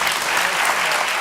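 An audience breaks into continuous, dense applause, a bright wash of many hands clapping at once that holds steady without pause.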